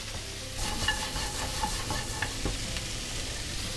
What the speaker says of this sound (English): After the onion we add carrots.